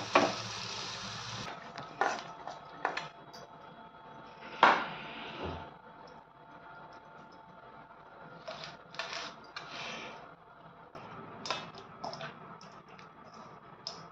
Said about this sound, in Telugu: ఇంకా అన్నంలో కలుపుకోవాలి ఇప్పుడు దీన్ని